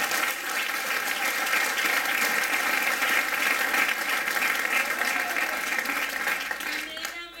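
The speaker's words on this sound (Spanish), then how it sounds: "Demos un aplauso con ánimo." A church congregation claps together during a Friday evening worship service, a loud, steady wave of applause that holds for several seconds before tapering off, with faint voices mixed in.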